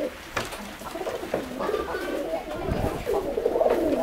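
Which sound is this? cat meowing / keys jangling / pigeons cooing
pigeons cooing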